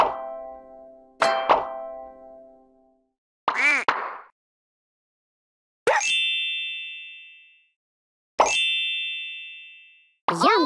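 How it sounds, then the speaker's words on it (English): Bubbles pop one at a time in a PAW Patrol pup-washing video game, each a bright plop or chime with a ringing tail, spaced a second or two apart in otherwise quiet game audio. "Now tap all the bubbles to pop them."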